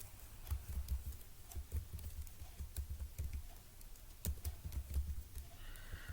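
Quick keystrokes typing an email address into a form on a mobile phone, irregular clicks and taps close by with no one talking.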